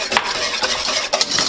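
A spoon stirs cream into chicken stock in a pot for pumpkin soup, scraping and clinking against the sides in a few quick strokes with a light simmering hiss underneath and no voices.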